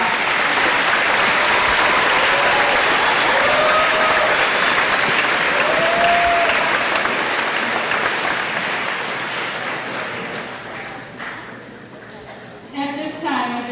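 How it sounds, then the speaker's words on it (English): Sustained audience applause fills a school promotion ceremony, a dense steady roar of clapping that gradually thins and fades toward the end, with faint voices and whistles rising as it dies down. "give the whole audience a major applause"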